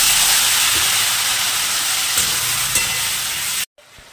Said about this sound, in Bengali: ভালোভাবে কষাচ্ছি